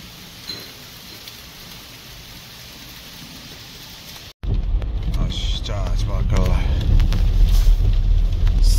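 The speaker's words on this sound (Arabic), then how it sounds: "انها تمطر" Rain falling on a street in Amsterdam, a steady hiss of drops that cuts out briefly, then returns louder and closer as voices talk over it.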